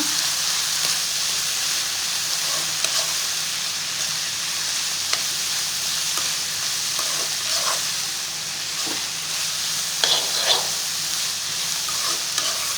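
Tomatoes for pasta sizzle and fry in a hot pan while a spoon stirs and scrapes through them, a steady hissing bed with occasional clinks and scrapes and no talking.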